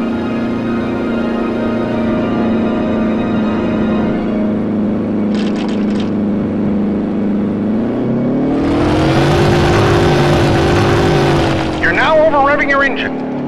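A warplane engine in Heroes of the Pacific on PS2 drones steadily, then surges upward in pitch as a speed boost kicks in, the roar swelling louder; a voice talks over it.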